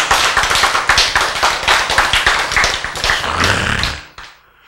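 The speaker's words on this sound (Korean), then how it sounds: "박수" A congregation claps during a Korean church sermon, a brisk dense burst of many hands clapping together for about four seconds before it quickly dies away into near silence.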